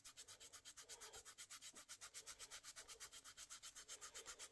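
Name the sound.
hand sanding wood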